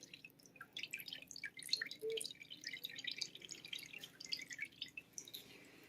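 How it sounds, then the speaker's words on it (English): Water drips from a freshly washed medical endoscope lifted out of its basin, a quiet scatter of small irregular drops and plinks, close and fairly rapid against near silence. "It's going to drip water, so be prepared."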